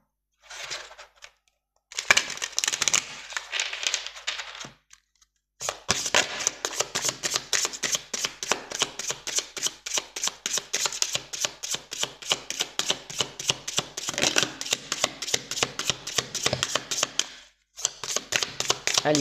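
Oracle cards being shuffled by hand, starting with a few short riffles, then a long run of rapid rhythmic card flicks broken by brief pauses, close and crisp with no talk.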